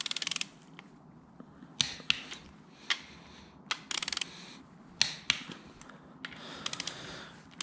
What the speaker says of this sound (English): now I can final torque these caps to 55 foot-pounds